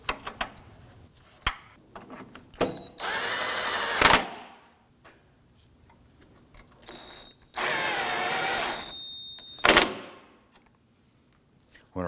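Cordless power tool snugging bumper bracket bolts on a 2008-2011 Ford Focus, two sustained whirring runs of a few seconds each with brief clicks and handling knocks between, fairly close, with no voices.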